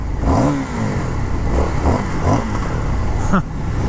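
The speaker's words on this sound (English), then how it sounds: "I like the burble to the exhaust too." A 2023 Indian FTR R Carbon, a 1200 cc motorcycle, burbles and revs through its exhaust in a few rising and falling pulses, with a voice speaking over the engine.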